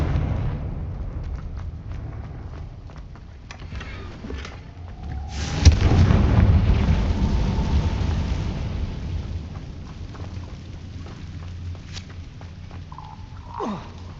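A Confringo blasting spell in the Hogwarts Legacy video game sets off a sudden loud boom that rumbles and decays over several seconds amid low ambient game noise.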